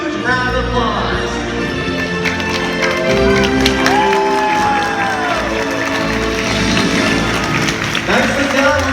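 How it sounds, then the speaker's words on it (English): Crowd of spectators cheering and applauding at a SeaWorld Orlando orca show stadium, a steady loud wash of clapping and shouts lasting throughout, with music and an amplified announcer's voice mixed in. "when the pilot does that jump at stage, let's all give him a huge round of applause"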